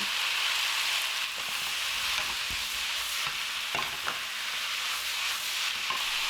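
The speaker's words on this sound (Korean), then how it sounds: "양념이 골고루 배도록 잘 섞습니다" Sundae stir-frying in a pan with green onion and chili, a dense steady sizzle with scattered scraping and tossing knocks from a spatula, close and without talk.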